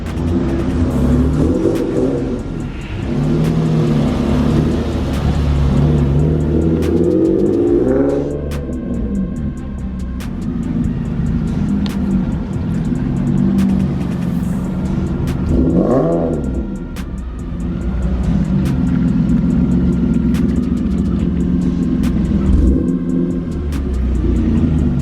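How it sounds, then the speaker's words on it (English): A single-turbo Infiniti G37 Coupe runs on a dyno, its engine rumbling loudly with several rising revs and sweeps, close and continuous throughout. "It's ready for the dyno."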